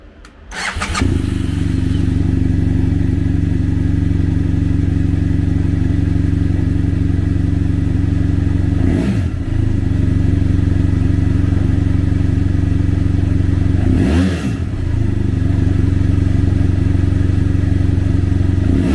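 A 2014 BMW F700GS with its 798cc two-cylinder engine starts and idles steadily nearby, a low throbbing drone with two brief revs partway through.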